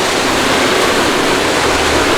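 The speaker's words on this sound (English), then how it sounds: "Well, there's the waterfall." A waterfall in Thailand gives off steady, dense roaring white water, loud and close, with no voices over it.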